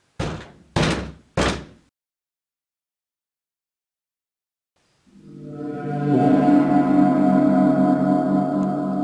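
Door slammed in a short film: three sharp heavy thuds in quick succession, then a long silence before a loud sustained rumbling, droning noise swells in and continues to the end.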